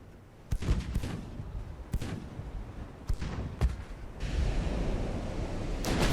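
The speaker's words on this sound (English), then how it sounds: "The 4-inch gun hits the funnel." Naval guns firing in the warship battle game Ultimate Admiral: Dreadnoughts: four or five heavy, booming reports spaced a second or so apart over a steady rumbling sea-like wash.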